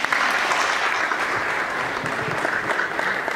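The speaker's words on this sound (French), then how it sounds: "Sous vos applaudissements encore une fois." Steady, sustained applause from an audience after a speech at a ceremony honouring top baccalaureate students in Bargny, with dense clapping at an even level throughout and no talk over it.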